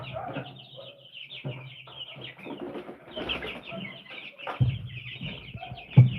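Several chickens cluck and chatter close by in a busy, overlapping run of calls, with no talk.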